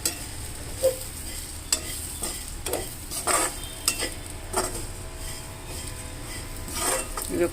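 Oats khichdi ingredients sizzle gently in hot oil in a pan while a spoon stirs and scrapes, with repeated close clinks of utensil against the pan over steady frying.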